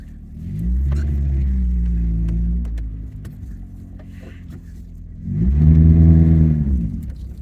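A 1984 Toyota Tercel wagon's engine surges and settles as the car pulls through a tight turn, with a second loud rev near the end and faint clicks and rattles in the quieter gap between.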